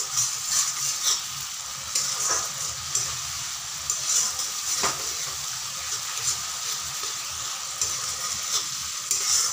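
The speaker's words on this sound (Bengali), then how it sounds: "ভালো করে মশলা কষাতে হবে, আর মশলা কষানো হয়ে গেলেই কিন্তু মশলা থেকে তেল ছেড়ে দিবে। তো যতক্ষণ না তেল ছাড়বে ততক্ষণ ধরে কষাতে হবে, এভাবে নাড়া দিয়ে দিয়ে কষাতে হবে।" Spice masala for egg curry is sautéed in oil, with a continuous bright sizzle broken by soft, repeated scrapes of a spoon stirring the pan, close and steady throughout.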